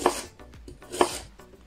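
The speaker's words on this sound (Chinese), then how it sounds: "准备红薯300克，去皮， 切成均匀的薄片" A knife cuts peeled sweet potato into thin, even slices on a board, giving two or three short, close chopping strokes in a quiet room.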